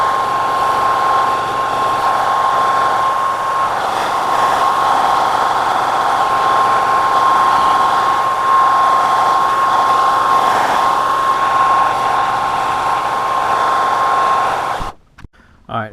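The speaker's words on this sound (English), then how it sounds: "I'm going to get a hairdryer out and we'll see if that will help out a little bit" A hairdryer blows steadily at close range while heating plastic water plumbing tube inside a bus, a constant loud whirring hiss with a thin whine that cuts off abruptly near the end.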